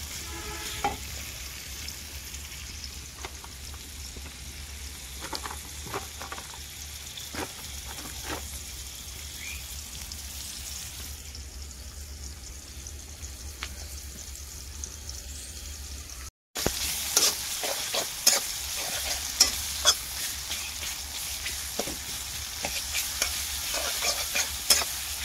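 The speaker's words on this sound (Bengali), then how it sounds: "আর ঝাল, পেঁয়াজ, রসুন সুন্দর করে কুচিয়ে রেখেছি, এগুলো দিয়ে তেলে দিয়ে সুন্দর করে বাদামি বর্ণের রং হবে এমন করে ভেজে নেব" Chopped chilli, onion and garlic fry in hot oil in a wok with a steady sizzle and repeated scraping strokes of the spatula. After a brief cut partway through, the hiss returns louder with busier stirring and no talking.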